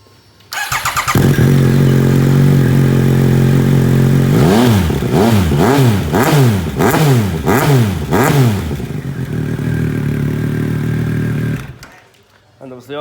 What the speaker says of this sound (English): I'll give it a start up whilst we're at this back end as well.